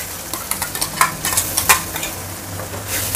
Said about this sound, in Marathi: याला पण चांगलं परतून घेऊया